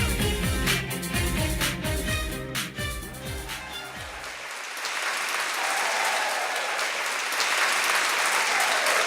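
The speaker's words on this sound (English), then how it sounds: "Let's give her another round of applause." Audience applause at a seniors' beauty pageant rises as music ends, a dense, sustained clapping from a sizeable crowd that carries on alone for several seconds.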